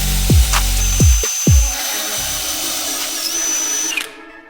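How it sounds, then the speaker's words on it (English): Wire wheel on a power drill stripping rust and flaking paint from a 1989 Honda CRX body, with several short motor spin-ups winding down, then a sustained high whine of the spinning wheel before it stops. "So I'm gonna take a wire wheel and try to clean all this up."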